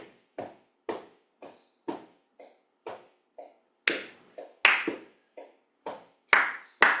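Rhythmic hand claps and foot steps while practicing a 12-bar blues beat, sharp dry hits in a slow steady pulse about every half second, close, with some stronger louder claps toward the end and silence between.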